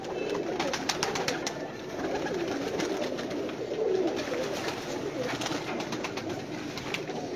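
Pigeons cooing on a rooftop, a steady murmur of soft overlapping coos that continues throughout, with faint scattered clicks above it.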